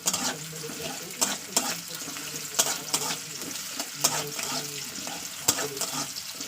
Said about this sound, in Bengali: তো চলুন পেঁয়াজটাকে প্রথমে দিয়ে একটু ভাজা করবো